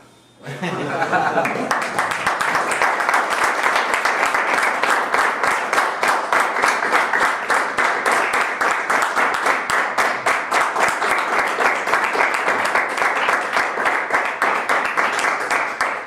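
A lecture audience applauds steadily and densely at a conference, the clapping loud and sustained for about fifteen seconds with no letup, a brief voice at the very start.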